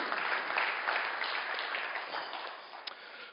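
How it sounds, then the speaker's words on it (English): An audience at a corporate summit product demonstration gives a steady round of applause. The clapping is moderately loud and even throughout and tapers slightly near the end. "Give Henrik and Angie and Wayne a round of applause,"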